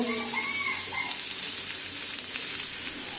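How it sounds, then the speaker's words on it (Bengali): Soybean oil hits a hot pan for a mashed dish and sizzles in a steady close hiss, with a faint tonal whine at the start and no voice over it. "এই যে আমি সয়াবিন তেল দিয়ে নিলাম"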